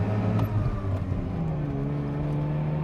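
A 1985 Mazda RX-7 rotary engine is held at full throttle. It gives a loud, steady, buzzing drone whose pitch climbs slightly over a few seconds, with no one talking.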